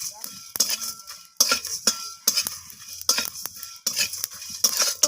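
A spice mix is stirred and dry-roasted in a pan, with a utensil scraping and clinking against the metal in repeated bursts separated by short pauses and a faint sizzle underneath.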